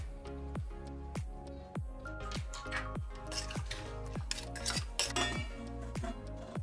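Tomatoes and onions are stirred in a pan, with a run of regular metallic clinks and tapping from the utensil over a soft, wet squish, close but quiet, with no voices.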